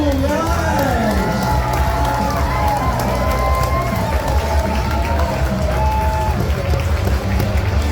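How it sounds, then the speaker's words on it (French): A festival crowd at Brasiervil 2024 cheers and whoops for a contestant, voices shouting and rising over a constant roar, with only a little clapping mixed in. "on l'applaudit chaleureusement"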